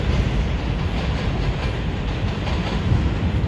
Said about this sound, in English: The 2 train going to Wakefield.